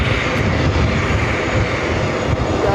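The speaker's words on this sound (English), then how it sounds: "It's the 777-300ER flight coming from Madrid." A Boeing 777-300ER airliner at JFK airport produces a loud, steady jet engine roar that fills the whole clip without letup, close and continuous, with no voices.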